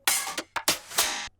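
A drum-kit fill from a hyperpop beat, several sharp bright hits in quick succession with short decays, the last notes ringing slightly longer, heard alone and close.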